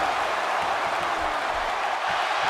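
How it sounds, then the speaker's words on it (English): A wrestling arena crowd in WWE 2K17 murmurs and roars steadily at an ECW November to Remember event, a constant broad hum of many voices with no distinct shouts standing out. "The crowd is buzzing."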